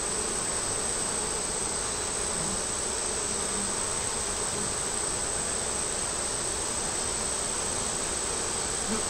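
Honeybees at the hive hum in a dense, steady, continuous buzz, close and unbroken, with a faint high whine running over it.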